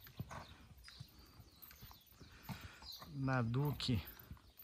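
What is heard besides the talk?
Lusitano horse hooves clip-clopping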